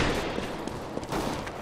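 Rapid auto-sniper fire in a CS:GO match, dense overlapping shots in a continuous noisy burst with a few sharper cracks around the middle and toward the end.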